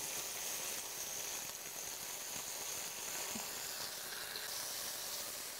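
Beef schnitzel fries in a hot pan with a steady, dense sizzle and hiss, with small crackles and spits scattered throughout at close range and no talking.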